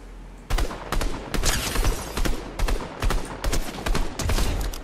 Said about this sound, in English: This war machine turret's kinda cool.